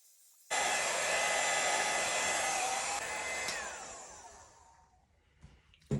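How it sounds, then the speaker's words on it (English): A blow dryer, used on a Dutch pour acrylic painting, switches on and roars steadily at close range for several seconds, then fades down toward the end. "I'm gonna use the blow dryer to blow the base over."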